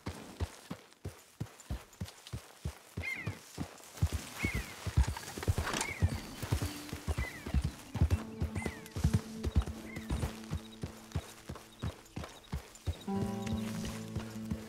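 Horse hooves clip-clop at a steady walking rhythm in Red Dead Redemption 2, a regular train of close, moderately loud thuds. Brief whinnies and other game sounds join near the end.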